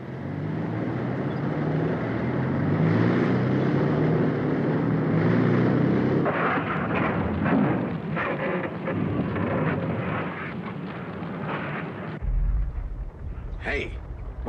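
Engines of a recovery vehicle start and build to a loud roaring rumble, a Thunderbirds sound effect, swelling for several seconds before dropping off abruptly, with a brief burst of noise near the end.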